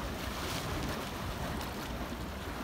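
Waves washing onto the beach at Anse à l'eau, Saint-François, Guadeloupe: a soft, continuous surf wash with some wind, heard alone and fairly faint.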